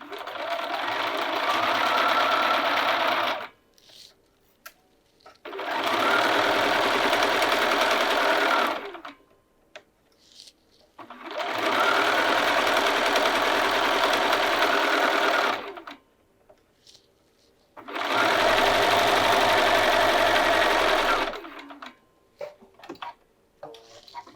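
A sewing machine stitches a sleeve seam in four steady bursts of a few seconds each, whirring rapidly and close up, with brief quiet pauses between runs.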